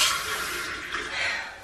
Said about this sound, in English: Bless the sink water here.